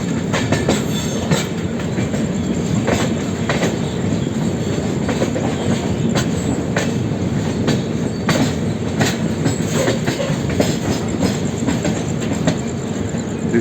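Rajdhani Special AC express train running on rails from New Delhi toward Bengaluru after leaving Itarsi, heard from inside the coach as a steady loud rumble with rhythmic clickety-clack wheel beats over rail joints.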